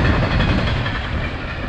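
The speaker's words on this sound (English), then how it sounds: "seen this train coming, so thought I'd get a shot of it for you" A train rolls past near Pine Bluffs, Wyoming, with a steady, loud, close rumble and the clatter of its cars, and no voices over it.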